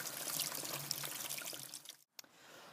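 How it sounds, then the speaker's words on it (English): Water poured onto a compressed compost block at an allotment, a steady close splashing pour for about two seconds that cuts off abruptly, followed by a short drip and quieter trickling. "So now it's time to add water."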